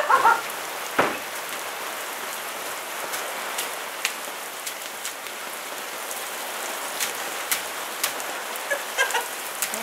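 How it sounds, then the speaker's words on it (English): Heavy rain pours down in a dense, steady hiss, with sharper drops and splashes popping through close by, and no talking. "there is hardcore rain going on"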